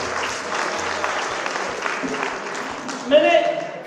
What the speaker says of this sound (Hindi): आप सब लोग तालियां बजाइए बस।